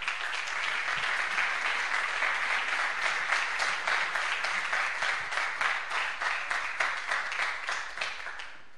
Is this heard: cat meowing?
no